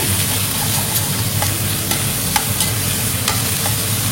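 Small pieces of liver fry in a pan, a loud continuous sizzle with faint scattered crackles and pops throughout, no talking.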